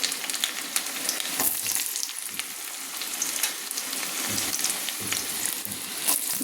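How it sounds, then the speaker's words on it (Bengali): Chopped carrots fry in hot oil, making a continuous close sizzle with soft crackling, fairly quiet and steady, no voices heard. "এবার আমি এক এক করে কেটে রাখা সবজিগুলো আমি ভেজে নিচ্ছি।"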